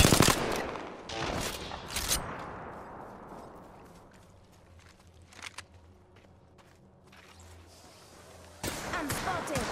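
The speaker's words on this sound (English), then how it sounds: "Taking fire. Recharging my shields. Enemies are shooting at me." Enemy gunfire rings out in Apex Legends as loud, sharp shots and short bursts, separated by quieter gaps filled with footsteps and faint movement, then another burst of heavy fire.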